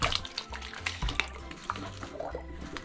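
Water swirling inside a spun tornado-in-a-bottle made for a kids' home experiment, a steady close sloshing and gurgling rush with a few bright splashy spikes, heard alone without talk.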